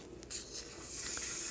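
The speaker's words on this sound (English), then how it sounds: "I like to run a pro polish pad over it" Polishing pad eased over Viking wire knitting: soft, quiet rubbing and brushing strokes in a short continuous pass, close and faint, with no talking.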